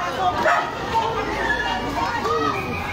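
Dogs bark and whimper near the scene of a neighborhood house fire in Pasay City, mixed into a noisy crowd with people talking and children's voices.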